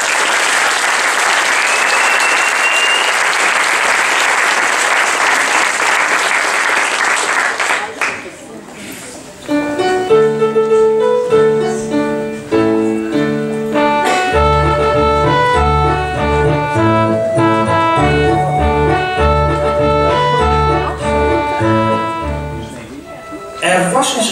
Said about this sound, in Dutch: En ik zou willen vragen om een eh, groot beginapplaus voor alle kinderen van vannacht.